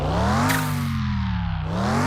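Ferrari 250 GTO engine in Car Mechanic Simulator catching and starting, a rising rev around the half-second mark settling into a steady close idle drone with no talk.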